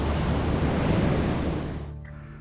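Waves wash onto the main beach at Phu Quoc, Vietnam, a close, loud rush of surf that fades away in the final second.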